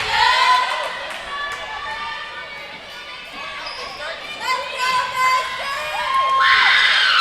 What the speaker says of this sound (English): You can hear just several young ladies screaming and shouting out there for the Red Devils.